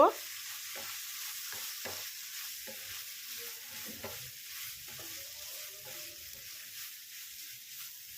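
Tomato sauce being stirred into a mixture in a pan, a faint steady sizzle with soft scraping strokes of the spoon at an irregular rhythm.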